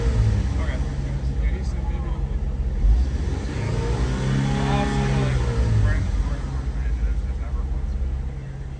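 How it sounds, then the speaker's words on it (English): A car engine revs up steadily to raise the RPM during a sensor test, a sustained mid-pitched drone that swells and eases, with shop background noise. "We're gonna give it some RPM and see how that affects"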